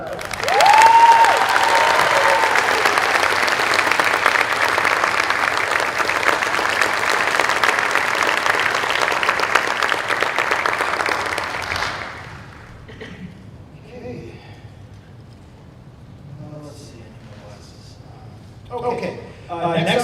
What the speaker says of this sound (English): So give Stella a round of applause